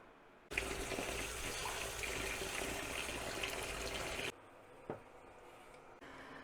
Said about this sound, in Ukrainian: Листя зараз промиємо під проточною водою